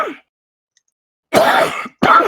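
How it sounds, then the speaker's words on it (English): Two harsh, close coughs from a man, each a short rough burst, separated by a brief pause after a faint trailing sound and near silence. "Sorry for coughing."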